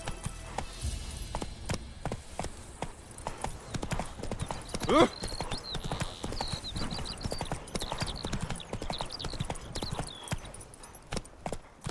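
Horse hooves clip-clopping at a steady gallop in The Witcher 3 video game, rapid rhythmic beats close up throughout, with a brief whinny and soft game ambience mixed in.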